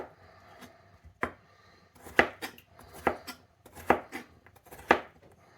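Knife chopping washed potatoes into bite-sized pieces on a cutting board, about six distinct sharp thuds at an irregular, unhurried pace, close and fairly quiet, with no talking.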